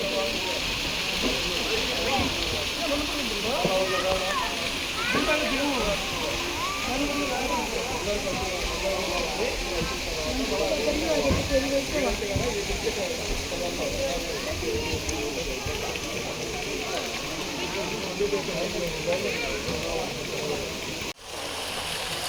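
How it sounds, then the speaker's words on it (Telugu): Water trickles steadily into a cool temple pond at Ahobilam, a continuous broadband rush with voices murmuring over it throughout, and a brief dip near the end. "అక్కడ కింద అయితే కోనేరు ఉంటుంది, చిన్న చిన్నగా పడుతూ ఉంటాయి వాటర్"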